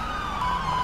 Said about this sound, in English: There are just ambulances everywhere right now